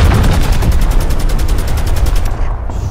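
Rapid automatic gunfire from Call of Duty Warzone rattles in a fast, steady burst of loud shots for over two seconds, then cuts off.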